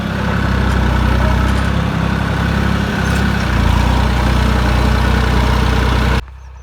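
A John Deere 5204 tractor engine runs steadily in a field, a loud, continuous low rumble with a throbbing idle, close by and alone before cutting out abruptly near the end.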